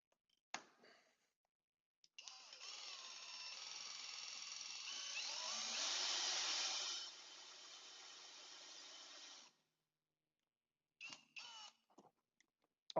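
Cordless drill driving a DW2 or DW3 drill-winch to lift a load on a rope, a steady whirring motor drone running for several seconds that swells louder midway, with scattered clicks and handling noises before and after.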